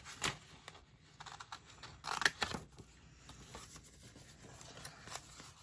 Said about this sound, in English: Trimming.